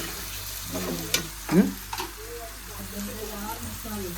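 Onions and tomatoes sauté for pav bhaji with a soft, steady sizzle close by, a few brief scrapes and knocks of a utensil against the pan; no one talks.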